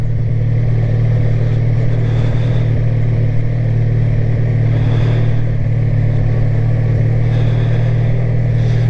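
A motorcycle pulls away from a park after its kickstand is raised, the engine's steady low drone loud and close, swelling with occasional revs and no talk over it.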